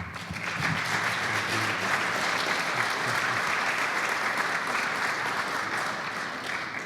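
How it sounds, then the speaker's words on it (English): Steady, dense audience applause fills a panel discussion about a new cancer care and research pavilion, holding an even level throughout with no talk. "Can we get a round of applause?"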